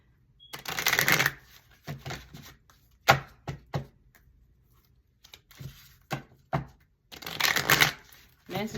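Spiritual oracle cards are shuffled by hand, up close, in several quick riffling bursts. Short taps and pauses separate the bursts, with quiet gaps between them.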